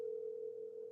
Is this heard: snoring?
no